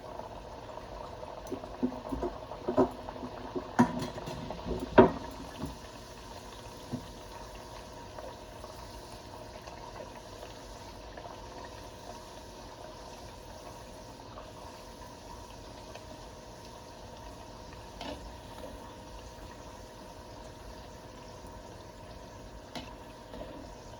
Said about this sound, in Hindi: कचौड़ियों को कभी तेज ऑयल में नहीं सेकना चाहिए, थोड़ा धीमे धीमे ही सेकना चाहिए